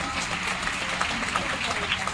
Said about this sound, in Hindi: तालियां कैसे बजानी है? बजानी है तो दिल से।